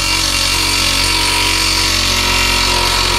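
Impact wrench running on a car suspension nut during a camber plate swap, a loud, close, continuous mechanical roar that holds steady throughout with no voices.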